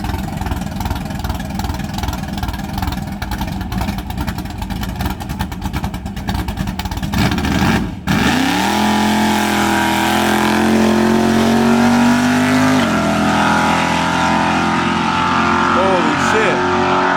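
A loud street-racing car engine roars close by, then revs up in a rising whine that climbs and drops, wind and rumble underneath, with speech mixed in.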